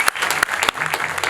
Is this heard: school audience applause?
yes